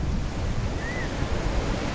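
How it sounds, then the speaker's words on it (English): Recorded ocean waves play through a capsule hotel room's sound system, a steady broadband wash of surf with a continuous rushing roar and no distinct breaks, fairly loud. "For example, the sound of ocean waves."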